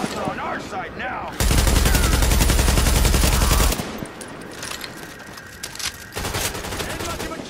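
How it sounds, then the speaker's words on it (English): Automatic gunfire in the shooter game The Division, a long sustained burst of rapid shots up close, with scattered game voices and other combat noise around it. "Warning, supply is taking fire."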